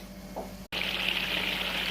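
Sliced onions frying in hot oil for beresta: a low hum, a brief cut, then a loud, dense, hissing sizzle that holds steady and close for the rest, with no talking.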